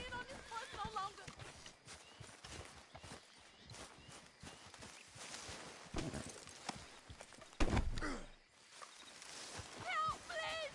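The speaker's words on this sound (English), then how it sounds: "I can't stand being on this horse no longer." Horse hooves walking in the video game Red Dead Redemption 2, a loose clip-clop rhythm running under loud, frantic shouting from a voice.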